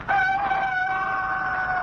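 A rooster crows in an old radio advertisement, a single sustained cock-a-doodle-doo heard loud and clear on its own.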